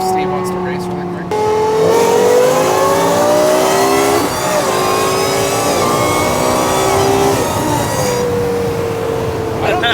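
Straight-piped Lexus LFA engine revving hard during a race, a loud, high, shrieking wail climbing through the revs with brief dips at gear changes, close and sustained, with people talking over it.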